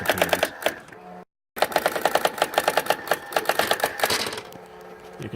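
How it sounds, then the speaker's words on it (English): Brother AX 350 electric typewriter running a typing demo: rapid, evenly paced mechanical key strikes with a thunky character, close and loud, broken by one brief silent gap before the clatter resumes and then tapers off. "It's not a very noisy typewriter generally. It's more thunky than ticky"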